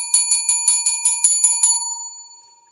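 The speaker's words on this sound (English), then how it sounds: "we're going to ring the bell so if it's loud." A small bell rings in about nine quick, evenly spaced strikes, bright and close, then a clear ringing tone fades out alone with no talk over it.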